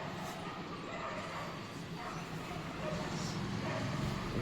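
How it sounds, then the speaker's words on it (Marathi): Dogs barking in the morning near a home where brick construction is going on, a steady broadband backdrop with yips and barks surfacing now and then throughout. "बघा सकाळी सकाळी वातावरण कुत्रे कसे भुकत आहे"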